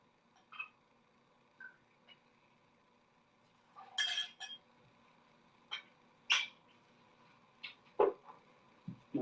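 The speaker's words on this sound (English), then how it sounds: "We'll add ice." Ice dropped into a glass of Four Roses bourbon gives a few scattered, faint clinks and taps, with short gaps of near silence between them.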